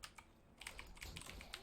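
Quick, light taps on a computer keyboard while crafting in 7 Days to Die, a short uneven flurry of keystrokes, soft and close, with no voice over them.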